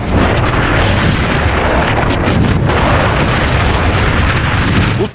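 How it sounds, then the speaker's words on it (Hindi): Missile strikes hitting an airport in news footage, a dense, continuous roar of explosions and booming blasts that stays loud and unbroken for about five seconds with no speech. "एयरपोर्ट पर एक के बाद एक मिसाइल गिरी"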